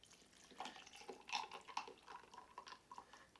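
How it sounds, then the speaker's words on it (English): Water poured from a container into a smaller cocktail shaker already holding a few ice cubes, for an herbal drink; a soft, steady trickle and splash at moderate distance, with faint drip-like clinks, and no talk. "and add my water"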